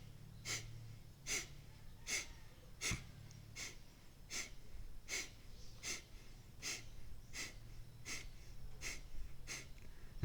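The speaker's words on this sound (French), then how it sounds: "C'est seulement l'expiration qui est forcée, brusque, en expulsant le maximum d'air dans l'oxygène et en maintenant un rythme constant sur plusieurs minutes." Forceful kapalabhati breath-of-fire exhalations, sharp nasal puffs pumped by the abdomen at a steady rhythm of roughly one per second, close and clear, with no talking.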